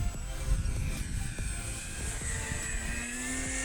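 A Dynam Cessna 188 1500mm RC airplane's small propeller motor whines at full throttle with a high-pitched, steady, sustained drone, engine noise filling the air outdoors without voices.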